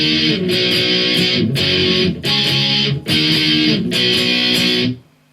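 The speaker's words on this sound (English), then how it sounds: "Okay, so again, and I'm just doing all down strokes here." Distorted electric guitar power chords strummed with all down strokes in a pop-punk style, played as loud, steady chugging bursts with brief gaps between phrases, alone and close, ending on a decaying ring.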